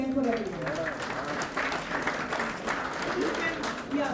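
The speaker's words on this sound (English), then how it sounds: "a big round of applause once again for everyone." A convention audience applauds, a moderate clatter of clapping mixed with a voice speaking over it.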